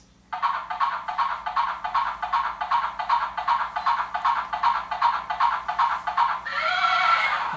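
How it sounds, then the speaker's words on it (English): A toy horse gives a loud electronic neigh, a long run of rapid, evenly pulsed whinny bursts ending in a breathy snort-like trail, close by with no talk over it. "Oh, is that a horsey?"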